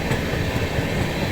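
A passenger train of 20 coaches with a pantry car rumbles along, a steady close rolling noise with faint wheel rhythm, brief and without voices.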